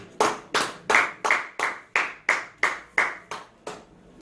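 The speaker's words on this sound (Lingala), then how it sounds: "Est-ce que vous pouvez acclamer pour la parole de Dieu?" A church congregation claps in slow, regular unison, about eleven even, close claps at a steady beat with no voices over them.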